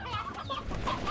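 Chickens cluck loudly and steadily in the video game Slime Rancher, a dense close-up burst of fowl sounds with no talking over it.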